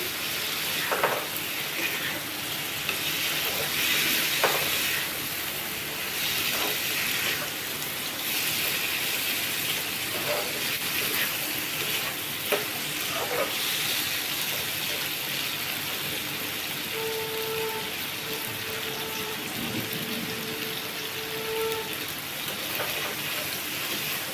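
Capsicum and paneer frying in a pan, a steady hiss of sizzling oil with occasional soft stirring clinks, close and continuous, no voices.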